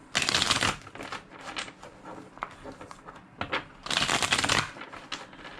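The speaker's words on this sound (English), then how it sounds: "2 more shuffles." A deck of tarot-style cards being shuffled close up, two loud riffling bursts at the start and near the end with softer card slides and taps in between.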